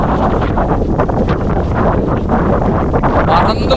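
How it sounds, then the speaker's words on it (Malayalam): Loud, steady wind roars across the microphone on the Kurisumala hilltop in Vagamon, about 4,000 feet high, with rising and falling gusts; a voice may be faintly present beneath the roar. "കാറ്റുണ്ടോ, എന്ത് ശക്തി നോക്കിയ കാറ്റിന്"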